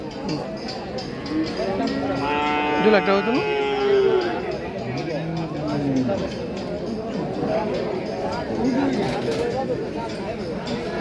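Cattle moo at a busy weekly village market, one long low call rising clearly around the middle, set against a constant hubbub of nearby people talking.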